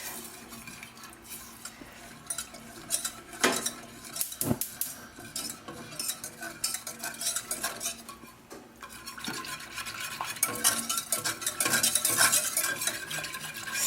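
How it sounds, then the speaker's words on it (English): A spoon stirs milk into a hot vegan toffee ice cream base in a pan, with scraping and clinking against the sides coming in irregular strokes, close and fairly soft, with a few sharper knocks. "I'm now going to add 1 cup of milk to this. And you stir this."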